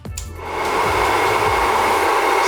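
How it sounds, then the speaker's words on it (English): An 8mm film projector motor starting up with a brief click, then rising within half a second into a steady, loud, continuous whirring drone that holds without talk. "get this motor running and watch it spool out"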